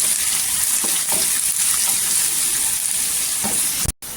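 Chopped onions sizzle and fry in hot oil with curry leaves, a steady, close, bright hiss that runs unbroken before cutting off abruptly near the end.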